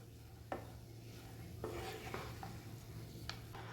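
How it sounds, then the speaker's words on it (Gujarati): Rice stirred into a pan for tomato rice gives soft, faint scraping and occasional light spatula taps over a low steady hum, close and quiet. "તો રાઈસ ઉમેરીને આપણે અહીંયા સરસ મિક્સ કરી લીધું છે"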